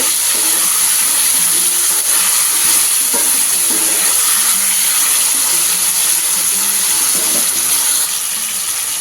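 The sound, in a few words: ginger paste cooking in a pan for vegetable biryani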